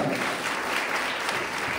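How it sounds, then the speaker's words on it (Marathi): An audience at a career guidance talk applauds for the speakers, a dense steady burst of many hands clapping together, sustained and fairly loud throughout. "या दोन्ही आजच्या वक्त्यांसाठी एकदा जोरदार टाळ्या वाजवा."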